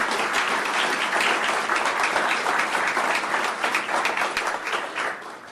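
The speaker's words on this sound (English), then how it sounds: "Would y'all give us a round of applause to celebrate them?" An audience at a city council meeting in Amarillo claps in steady, dense applause that stays loud for about five seconds and then starts to thin toward the end, with no talking over it.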